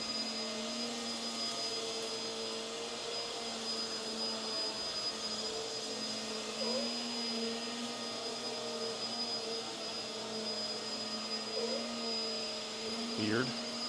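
Hoover Windtunnel Tangle Guard vacuum cleaner running over carpet indoors, a steady, fairly quiet droning whine with a faint buzzy edge and small shifts in pitch, ending with a brief scraping bump.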